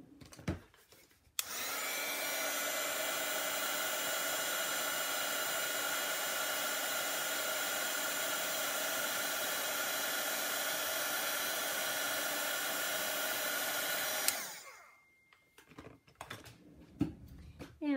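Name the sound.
heat tool blowing hot air on a craft project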